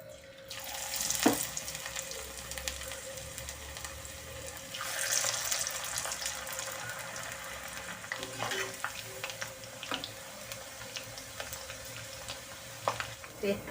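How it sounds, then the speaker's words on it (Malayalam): Small pinches of pakoda batter dropped into hot oil for a Kerala spinach dish, giving a steady bubbling sizzle with brighter bursts as pieces go in, close and continuous, with no talking. "അപ്പോൾ നമുക്ക് ഇതിൽ നിന്ന് കുറേശ്ശെയായിട്ട് ഇങ്ങനെ നുള്ളിയിട്ട് നമുക്ക് പക്കോട വറുത്ത് കോരാം"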